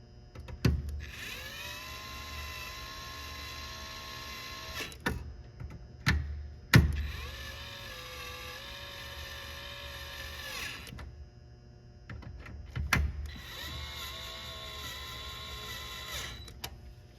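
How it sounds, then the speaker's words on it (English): Screws on pinball machine targets are tightened with a power driver, three sustained whirring runs of several seconds each, separated by sharp clicks and knocks, close and alone. "Then tighten each screw."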